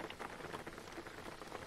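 Rain in a driving video game, a steady dense hiss of drops falling on a surface, even and constant throughout with no voices.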